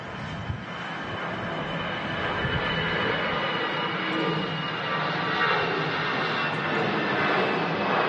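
A Brussels Airlines Airbus A320 jet departs from Manchester Airport, a broad, steady engine roar heard from a distance, rising gently in loudness and lasting throughout with no talk.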